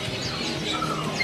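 An oriental magpie-robin gives a few short, high chirps, fairly faint against a soft background hiss.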